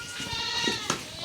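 Black Bengal goats bleat close by in a shed while being fed. One wavering bleat stands out over muffled background noise.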